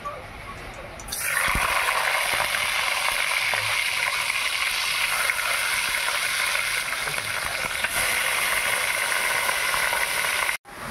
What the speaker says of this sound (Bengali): তেল গরম হয়ে গেল, এবার তেলের ওপরে মাছ দিয়ে দেবো